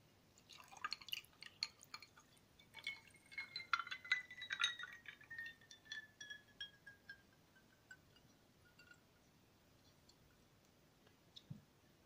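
Water poured into a glass holding three ice cubes until it is filled to the brim, with faint trickling, dripping and small glassy clinks of ice, quiet and close, easing off toward the end without talk.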